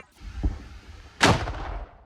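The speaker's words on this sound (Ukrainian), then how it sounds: "Постріл." A faint distant thump, then a louder sharp boom from a mortar firing that rumbles briefly and fades.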